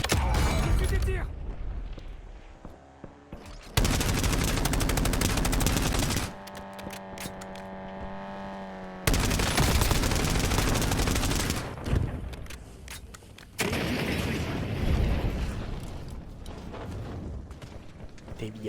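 Gunfire in the battle royale video game Call of Duty Warzone: loud, dense bursts of automatic fire in several long stretches, separated by quieter gaps with a sustained tone, and game voices speaking in places.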